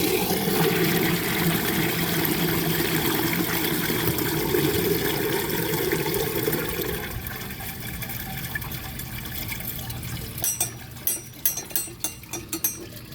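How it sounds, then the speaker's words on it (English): A broken mint green 1960 Peerless trailer toilet flushes loudly, a steady rushing of water for about seven seconds that drops to a quieter refill trickle, then ends with a few sharp clunks and rattles. "So now let's see a flush with the outlet clear."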